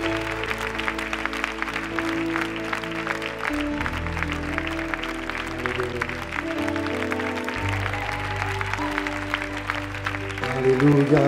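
A church congregation cheers and claps for Jesus during worship, a steady wash of applause and voices mixed with loud sustained music, swelling slightly at the end.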